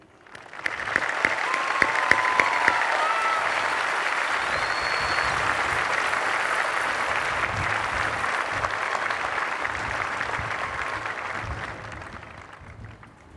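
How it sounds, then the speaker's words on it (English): A graduation audience at a high school ceremony breaks into sustained applause, a dense wash of clapping that rises quickly, holds for about ten seconds, then slowly fades. "A round of applause to show our love and affection for Mr. Adan Loa and his family"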